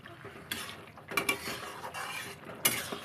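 A metal spoon stirs curry with ground garam masala in a cooking pot, scraping and clinking against the metal in a few irregular strokes, the sauce softly sizzling beneath, close and moderately loud with no talk.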